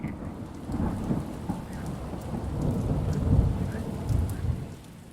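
Stormy evening rain falls steadily with deep rolling thunder rumbling through, low and continuous at moderate loudness, with no voices.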